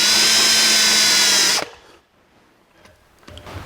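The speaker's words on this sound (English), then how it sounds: "We'll chamfer the inside edge with a countersink bit." A power drill turns a countersink bit to chamfer the inside edge of a drag link rod for a 1949 Chevrolet gasser, whirring loud and steady for over a second before stopping, followed by faint handling noises.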